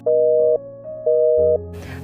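A phone call tone repeats when a number cannot be reached, loud pulsing beeps about half a second long with short gaps, ending in a brief burst of noise.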